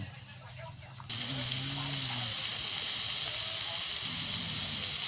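Steady loud sizzling of pork frying on a hot surface, a constant hiss close by, with a brief muffled voice at the start.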